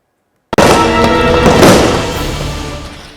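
A Diwali night firecracker goes off with one sudden loud bang, followed by a dense crackling roar of bursts that slowly fades out.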